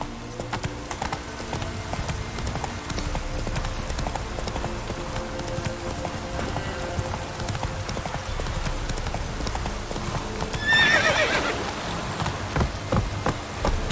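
Horse hooves clip-clop at a gallop in a video game, a steady close rhythmic pounding over a rain-like background hiss, with a brief burst of louder noise near the end.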